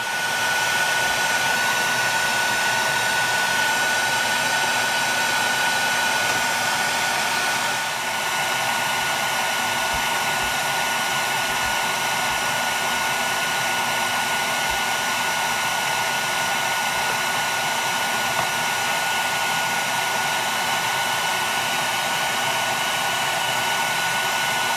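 A bee vacuum built from a power head on a 5-gallon bucket runs continuously, a loud steady motor whine with a constant tone that holds unbroken throughout, no voices present.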